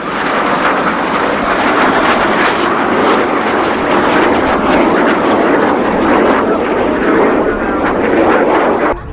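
A Jet Provost jet trainer flying past at the RAF Cosford Airshow, a loud sustained engine roar that swells and holds steadily for several seconds, dominating the scene.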